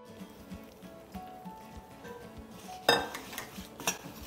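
Grain-free granola ingredients tossed with sauce in a bowl, soft scraping and shuffling of a utensil against the bowl, quiet and close, with one sharper clink near the end.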